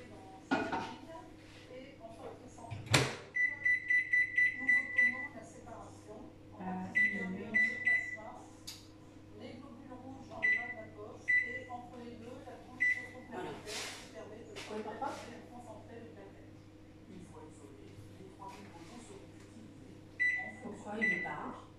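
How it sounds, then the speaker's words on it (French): A microwave oven runs while melting chocolate at 360 watts, a steady low hum through the clip, with a few clear beeps, clinks of dishes and cutlery, and someone talking over it. "Je vais bien sûr aller faire fondre mon chocolat 1 minute 30 à 360 watts."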